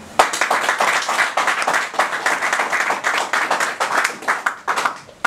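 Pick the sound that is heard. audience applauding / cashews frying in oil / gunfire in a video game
audience applauding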